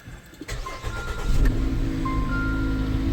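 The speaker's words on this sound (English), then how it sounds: "Let's go ahead and start this car" A car with a push-button start cranks briefly and catches, then settles into a steady, close idle with no talking over it.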